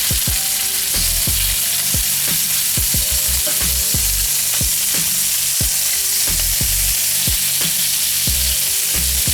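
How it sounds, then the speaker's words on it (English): Loud, steady sizzling of cheesesteak meat frying in hot olive oil, with occasional soft stirring scrapes underneath; no voices. "That sizzle is amazing. You hear that sizzle?"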